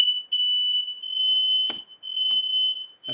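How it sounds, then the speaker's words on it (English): A smoke alarm emits a high, steady electronic beep in repeated long tones broken by short gaps, heard in a meeting room with a few faint clicks and rustles between tones. "that's my alarm."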